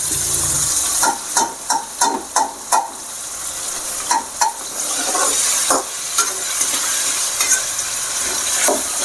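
Ginger garlic paste fries in hot oil for a mutton head curry, a continuous bright sizzle punctuated by repeated scraping stirs of a spoon against the pan, close and loud without any talking.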